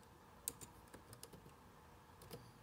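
Someone types on a computer keyboard while adding a link to channel art, producing a few scattered, soft clicky keystrokes nearby against a quiet room hum.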